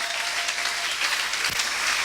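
A church congregation at a Sunday service claps and cheers in praise of the Lord, steady and sustained, moderately loud throughout.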